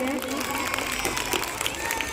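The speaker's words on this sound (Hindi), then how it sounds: "जोरदार तालियां हो जाए सर के लिए।" Applause from a school audience, with dense broadband clapping running steadily and fairly loud throughout, mixed with crowd voices.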